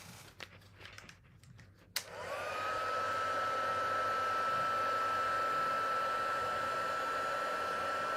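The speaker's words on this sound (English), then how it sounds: "then I want to grab my heat tool" A heat tool for melting embossing powder on a stamped card clicks on after a few quiet handling taps, then runs as a steady loud whooshing blower with a constant whine.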